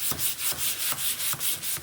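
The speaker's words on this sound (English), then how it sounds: "So I'm going to just give this a sanding." Sandpaper rubs back and forth over old varnish on a wooden kitchen cabinet, seven or eight quick rhythmic scuffing strokes, close and alone.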